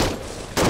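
Gunfire rattles in bursts from a distance in the military video game Arma 3, a dense crackling volley that breaks off and resumes sharply, with no voices.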